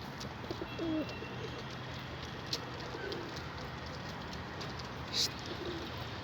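Pigeons in a Turkish loft give soft, low cooing now and then over a steady background hiss, with a few faint chirps and brief knocks nearby.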